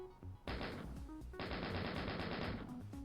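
A chain gun in a video game rips out two sustained bursts of rapid automatic fire, a short one and then a longer one, loud and dense with only a brief pause between them.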